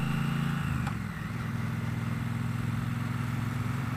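A Triumph Bobber motorcycle being ridden, its engine holding a steady low throbbing drone with a brief dip in pitch near the start, constant and close with no voices.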